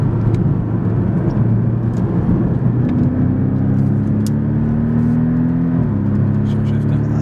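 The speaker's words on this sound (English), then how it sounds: "Man, the sound of a car is so integral." Porsche sports car engine droning steadily while driving, with a steady low hum that steps up in pitch and drops again as gears shift, loud and close from inside the cabin, with people talking intermittently.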